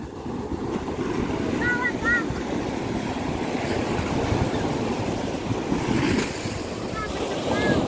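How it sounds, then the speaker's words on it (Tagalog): Rough surf rolls continuously onto a beach in Agno, Pangasinan, a loud broadband rush with strong wind buffeting the microphone and brief high chirps above it. "Maalon."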